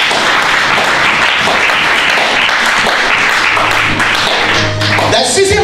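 Church congregation clapping in praise of the Lord, a dense, steady wash of applause filling the room for several seconds, with voices and faint tonal sounds mixed in toward the end.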